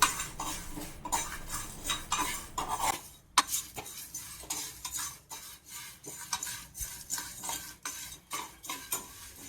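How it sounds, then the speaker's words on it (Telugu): Coriander seeds and cumin are stir-roasted in a dry pan, a spoon scraping and clinking against the metal in quick, uneven strokes with a faint sizzle underneath, close and continuous. "ధనియాలు, జీలకర్ర అన్నీ వేసాను. ఇప్పుడు ఒక్కొక్కటి వేయించుకోవాలి."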